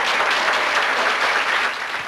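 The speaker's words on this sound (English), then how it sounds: "How about clapping for that?" Seminar audience in a Washington hotel for fearful flyers breaks into steady, dense applause, many hands clapping close and loud throughout, fading slightly at the end.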